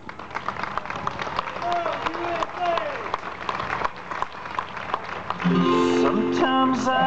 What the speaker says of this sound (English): Help me thank them with a round of applause at this time.